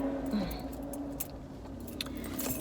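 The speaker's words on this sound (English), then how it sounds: "So I go ahead and grab my keys." Keys jangle with several short metallic clinks as they are grabbed, close by over a steady low rumble of background noise, with no talking.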